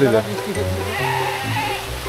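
A goat bleats near a village market under a mango tree, one wavering cry close by, over steady background chatter and voices.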